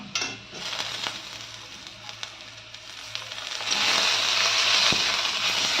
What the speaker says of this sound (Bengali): এবার পেঁয়াজটা লাল লাল হয়ে ভাজা ভাজা হয়ে গেছে, এবার এটার মধ্যে আমি টমেটো দিলাম